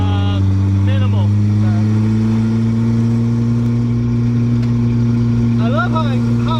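A 1981 Toyota Corona Wagon with homemade coilovers drives with a loud, steady low engine drone throughout, close and constant, while people talk over it.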